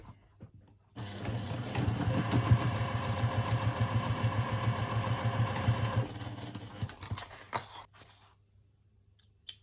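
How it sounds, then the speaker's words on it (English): A sewing machine stitches down the edge of cotton fabric for a wallet, a close, rapid mechanical whir running for about five seconds, then stopping, followed by faint handling clicks and rustles. "And now I will sew down to this edge."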